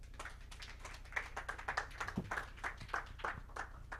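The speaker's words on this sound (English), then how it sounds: "Please clap for her" An audience claps for a person being called up at a mentorship programme event, the applause faint and distant with irregular sharp claps spread over a few seconds.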